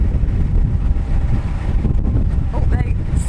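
Strong wind buffets the microphone in a steady, rumbling roar outdoors on a narrowboat, with no voices.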